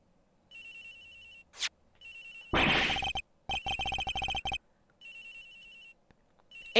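A phone in an investigation game rings with a repeating electronic chirp, broken by sharp interface blips and a louder buzzing burst partway through, with no voices.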